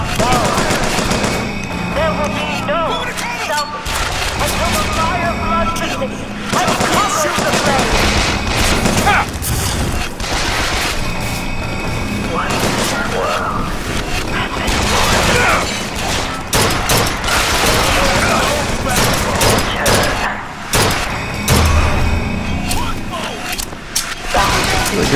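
Sustained automatic gunfire in the first-person shooter BioShock Infinite, loud and dense with continuous rattling bursts and occasional booms throughout, with only brief gaps.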